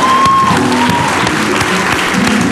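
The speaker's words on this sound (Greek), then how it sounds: "χειροκρότημα." Studio audience on the Greek TV show CIAO on ANT1 applauding as hosts welcome them, steady loud clapping filling the whole moment with some crowd voices and faint speech underneath.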